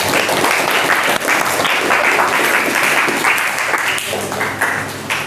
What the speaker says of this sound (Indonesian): yuk aplaus bareng-bareng buat kita semua